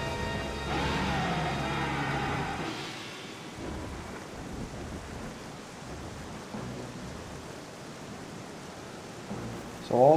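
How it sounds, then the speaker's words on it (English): A deep rumble of thunder rolls at the start, then steady rain hisses over a stormy backdrop in the video game Twilight Princess, with a brief sharper sound at the end. "So all of a sudden it starts raining, becomes stormy"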